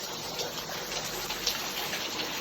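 Rain falling steadily outdoors, a soft continuous hiss and patter with no voices, fairly quiet and even throughout.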